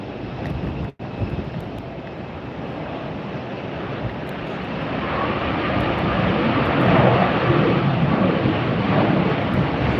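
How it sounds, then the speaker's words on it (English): Southwest airliner landing at Tampa airport on a windy day, its thrust reversers giving a broad roar that swells louder over the final seconds, mixed with gusting wind noise on the microphone. "Really get to hear those thrust reversers here"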